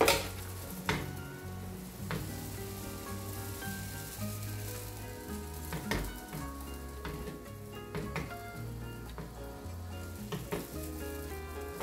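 Pancake batter spread with a ladle fries in a pan with a steady close sizzle, with occasional light clinks of utensil on metal and no talk.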